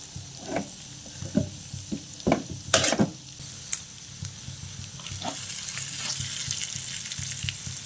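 Masala being stirred into a fried mixture in a pan for Kerala-style prawn biryani, with a spoon scraping and knocking in short bursts over a steady frying sizzle that swells toward the end.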